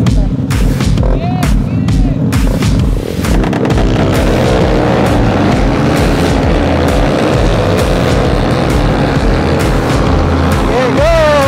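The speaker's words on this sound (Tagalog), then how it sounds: "Napapalibutan ng mga motor." A group of Yamaha Aerox scooters rolls together on a Pampanga road, a loud continuous engine roar with dense rumbling, some sharp bursts early on and wind buffeting, with voices talking over it.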